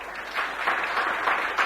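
Students in a class clap together in a short burst of applause, a dense fluttering patter of hands that swells and ebbs in a few waves, fairly close, with no talk over it.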